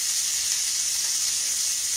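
Hamburger steak frying in a pan, a steady, bright sizzle and hiss that stays even and continuous at close range, with no talk over it.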